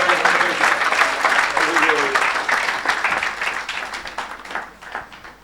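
A church congregation applauding for Jesus, dense clapping from a crowd that swells and then gradually thins, with voices calling out over the applause.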